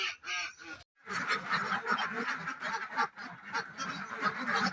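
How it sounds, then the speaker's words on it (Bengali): Many ducks quack loudly and close by at the edge of a wetland, their overlapping nasal calls nearly continuous after a brief pause at the start. "এখানে মোটামুটি অনেক হাঁস আছে এখানে"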